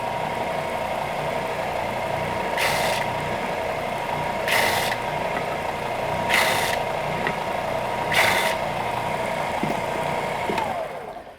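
An electric sanding machine runs steadily while wood is chamfered at a 45-degree angle against the sandpaper, a constant motor hum broken by four evenly spaced bursts of bright scraping grit as the piece is pressed in.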